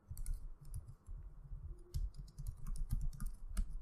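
Rapid keystrokes on a computer keyboard while entering web page code, irregular clusters of close, crisp clicks and taps continuing throughout.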